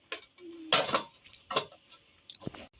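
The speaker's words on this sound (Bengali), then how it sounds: "এবার আমি এই ঢাকাটা দিয়ে দেবো" A metal lid is set onto a pan with a few short, sharp clanks and taps close by, and there is a brief scrape between them.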